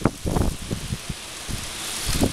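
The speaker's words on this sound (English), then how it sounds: "You can tell by how the rain is blowing and how the trees are moving." Typhoon Hagibis wind and rain in the Mie mountains, with trees moving: gusts buffet the microphone in low, irregular bursts over a steady hiss of rain and rustling foliage.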